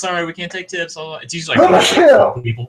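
One loud sneeze bursts out right after a person finishes speaking, sharp and close, then fades.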